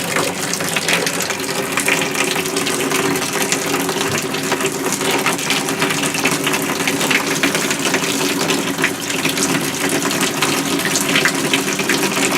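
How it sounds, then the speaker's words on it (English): Shower running cold water in an RV bathroom during de-winterization, a steady, loud broadband hiss of spray and flow continuing unbroken for the whole stretch with no talking. "And we'll turn the shower on. Cold water first."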